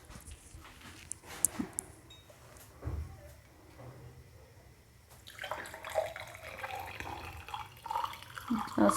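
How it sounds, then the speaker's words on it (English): Cinnamon tea poured through a sieve, a soft liquid trickle and splashing that grows louder and busier in the second half. "And now we can sieve it."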